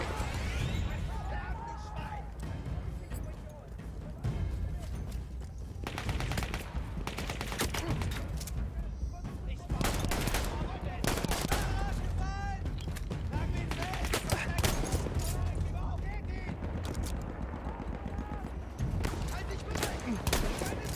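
Gunfire from Battlefield 1 game combat, including shotgun blasts, rattles through a dense, continuous battle mix of repeated shots and explosions, with someone talking over much of it.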